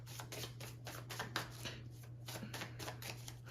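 A deck of tarot cards is shuffled close by in a steady run of soft riffling flutters, quiet and continuous over a low electrical hum, with no talk.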